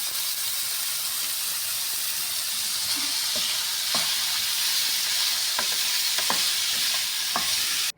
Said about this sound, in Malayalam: അതിൻ്റെ കൂടെ ടൊമാറ്റോയും അരിഞ്ഞത് ചേർക്കാം. അത് നന്നായി വഴറ്റിയെടുക്കാം.